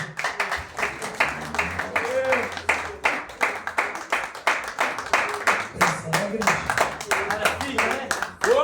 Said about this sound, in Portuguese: E você aplauda ao Senhor.